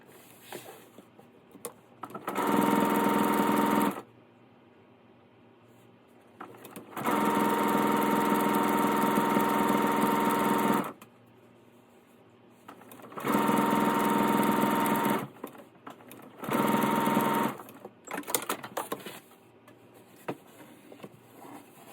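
A sewing machine stitches narrow quarter-inch fabric strips for a handbag, running in four steady bursts of a few seconds each, separated by quiet pauses.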